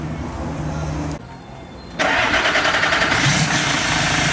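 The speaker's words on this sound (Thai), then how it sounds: "เดี๋ยวมาสตาร์ทให้ชมกันครับผม" A Nissan CW454 (Condor) truck with a JO8E 260 hp diesel engine cranks, pauses briefly, then catches. It settles into a loud, steady idle close by.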